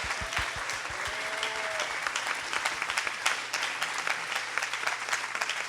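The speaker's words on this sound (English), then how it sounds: "huge round of applause for this whole panel" Applause from an audience at a skateboarding journalism panel, a dense steady patter of clapping hands that continues throughout.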